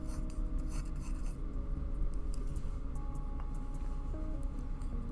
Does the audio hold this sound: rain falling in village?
no